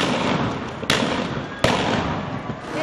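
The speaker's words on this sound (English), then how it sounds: "police fire back with rubber bullets" Two sharp reports from police firing rubber bullets at anti-government protesters in Valencia, Venezuela, crack over a loud, roaring street crowd, spaced under a second apart.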